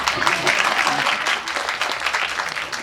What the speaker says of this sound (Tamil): இந்த கைத்தட்டல்கள் அனைத்தும் தமிழ்நாடு தெலுங்கு பீப்புள் அசோசியேஷன் தேவரகொண்ட ராஜு சாரை தான் போய் சேரும்